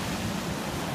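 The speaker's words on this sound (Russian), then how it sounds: "На море волнение." Rough December sea waves at Sochi make a steady, broad wash of surf, mixed with wind buffeting the microphone. The sound is close and continuous, with no voices.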